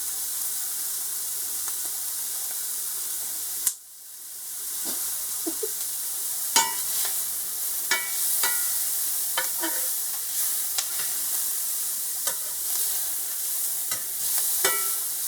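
Onions and mushrooms fry in a pan for a ground beef stroganoff, a steady sizzle broken by a sudden scrape near the start and then repeated clicks and scrapes of stirring close by, with no talking.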